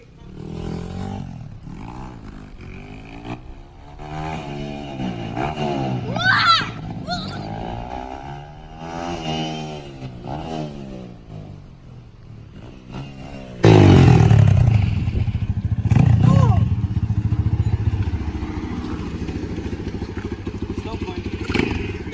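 A Yamaha YZ250 dirt bike with a mechanical problem runs close by, its engine revving up and down in repeated rising and falling sweeps before a louder, rougher burst of throttle that holds for several seconds.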